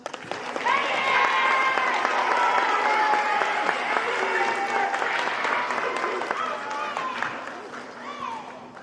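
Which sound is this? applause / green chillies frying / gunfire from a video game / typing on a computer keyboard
applause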